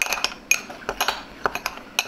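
A metal spoon clinks against a bowl while stirring a teaspoon of coconut sugar into tart fruit, a dozen quick irregular taps and scrapes, close and fairly crisp, with no voices.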